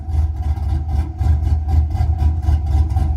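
A truck with an aggressive exhaust setup idles loudly and close, its lumpy, choppy rhythm pulsing steadily in repeated low thumps with no voices over it.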